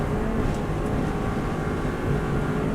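A Subaru WRX STI engine roars steadily at high speed in sixth gear around 150 mph on the Isle of Man TT road course, a loud, dense, unbroken drone with wind and road rumble.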